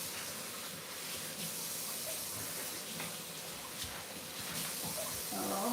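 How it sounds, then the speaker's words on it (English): Kitchen tap water running steadily while food is rinsed under it, a moderate broadband hiss with a brief splashing change near the end as the flow hits the food, no talking. "All right, I'm washing this. Just give me a second while I rinse it off."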